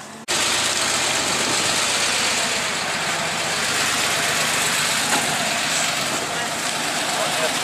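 Road traffic, with Porsches and Mazdas among the cars passing one after another, makes a continuous broadband engine roar and tire rush close by, holding steady throughout.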